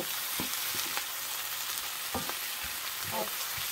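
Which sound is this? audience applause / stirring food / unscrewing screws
stirring food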